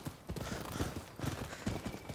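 Hooves of a horse galloping in the samurai action game Rise of the Ronin, a regular thudding clip-clop beat repeating about twice a second at moderate volume.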